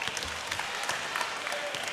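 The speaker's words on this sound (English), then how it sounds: "Trinity fans giving their guys a nice round of applause" Trinity basketball fans applaud in a gym near the end of a high school game against York Catholic, a fairly faint, scattered round of clapping with crowd noise underneath.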